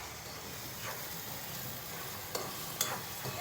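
Turmeric, asafoetida, chilli and cumin fry in oil with a soft, steady sizzle. A few sharp stirring scrapes come close by toward the end.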